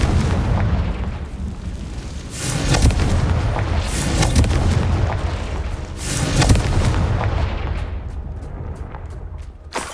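Confringo blasting spells going off in Hogwarts Legacy, a run of loud booming explosions with rumbling bursts at intervals over continuous game background noise, with no voices.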